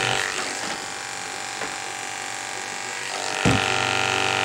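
Electric clippers trimming a miniature schnauzer's beard against the grain, a steady close-up motor buzz running throughout with a brief louder surge near the end, no talking.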